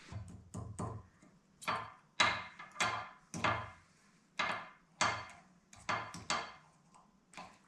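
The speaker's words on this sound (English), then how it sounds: "I'm gonna strike it with my pliers." Sharp metallic taps as a blacksmith strikes tiny miniature tongs with pliers, about a dozen close, crisp hits in an irregular rhythm, each ringing briefly before the next.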